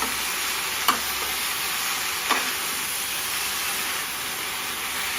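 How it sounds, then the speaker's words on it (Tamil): Sorrel leaves (pulicha keerai) for thokku sautéing in a pan, a continuous even sizzle with two light scrapes of a spatula, close and with no voices. "அப்படியே வதக்கி கொடுங்க வதக்கி கொடுத்தா தோண்டு போயிடும்"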